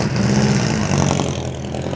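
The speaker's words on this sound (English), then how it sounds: "It's got a JAP engine in there, big single cylinder engine." A vintage Cooper rear-engined racing car with a big JAP single-cylinder engine drones loudly and steadily at a vintage hillclimb meet, close up, with no voices.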